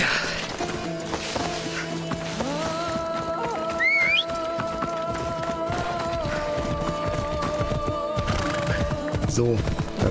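A horse in Assassin's Creed Odyssey neighs loudly while its hooves clop steadily throughout, a rider on horseback under game music and ambient noise, with a voice talking over it.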